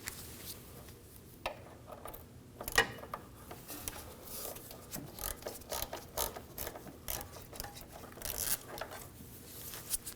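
A ratchet with an 8mm socket works loose a lower intercooler hose clamp on a 2009-2014 Ford F-150 3.5L V6, a steady run of quick close clicking ratchet strokes over quiet mechanical background noise.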